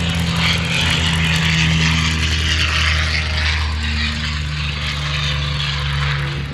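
Yak-3 propeller fighter at the Classic Fighters airshow in Omaka, New Zealand, taxiing past the crowd with its piston engine droning steadily and loudly at close range, a deep throbbing hum holding for the whole stretch.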